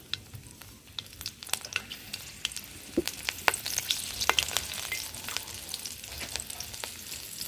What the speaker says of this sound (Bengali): ফোড়নটা হালকা ভেজে নিয়েছি